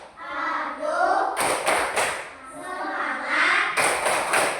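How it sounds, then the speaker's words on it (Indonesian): A school class claps a rhythmic cheer together before a lesson, two bursts of sharp group claps standing out over children's voices and room chatter. "sebelum belajar kita tepuk semangat dulu ya."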